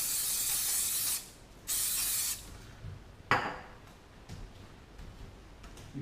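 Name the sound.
spraying extra virgin olive oil spray into a pan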